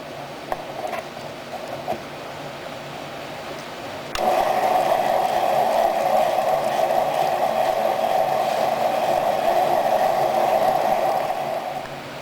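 Marble sphere grinding machine starts up after a few seconds of quieter hum, then runs with a steady, loud grinding whir that holds evenly before easing slightly near the end, with no talking.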